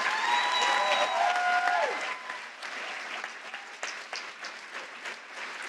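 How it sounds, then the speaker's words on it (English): Audience applause at a Making Strides Against Breast Cancer kickoff event, a sustained crowd clapping that stays fairly steady, with some cheering and a tonal whistle-like sound early on, then settling into even clapping. "A round of applause for Emily, Bethany, and the entire Making Strides team and volunteers"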